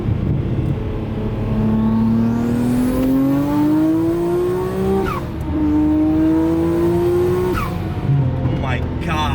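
A Nissan GT-R pulls hard in third gear, its engine note climbing steadily and loudly over several seconds, then dropping briefly at a shift before climbing again, heard from inside the car with voices underneath.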